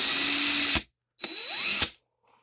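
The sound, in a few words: DeWalt power drill running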